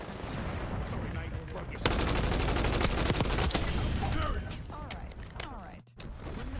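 Dense, loud gunfire in Black Ops 6 as a fusillade of automatic shots erupts in a sustained barrage, with mechanical clanks and game effects mixed in and a voice briefly audible.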